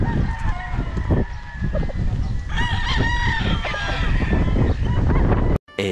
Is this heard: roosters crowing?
yes